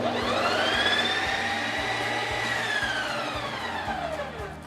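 A Ninja Creami machine spinning a frozen Frosty-style mix gives a loud, steady whirring motor whine that rises and then slowly falls in pitch, with faint clicks underneath.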